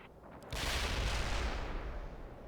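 Gunfire in a Star Wars mod of the World in Conflict video game, a sudden dense barrage of booming shots and blasts erupting after a brief lull and rumbling on loudly before easing.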